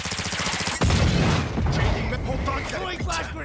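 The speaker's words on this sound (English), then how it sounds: "Throwing flash grenade!" A flash grenade bursts in a first-person shooter game with mortar strikes, a sudden loud boom followed by a rumbling, ringing tail, with gunfire and chatter mixed in and someone talking over it.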